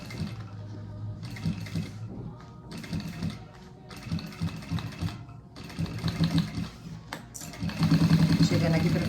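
A sewing machine stitches fabric for a bag, running in short bursts and pauses before a final backstitch, with someone talking over the mechanical whir.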